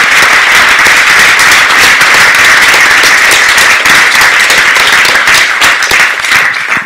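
Audience applause for panellists after a discussion on teaching as a career, loud sustained clapping from a full room that holds steady for several seconds before beginning to fade.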